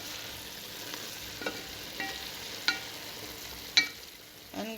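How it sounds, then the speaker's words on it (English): A spoon stirs steamed callaloo and saltfish in a pot, giving faint soft scrapes and a few sharper clinks against the pot over a quiet background. "I'm just going to stir in everything together."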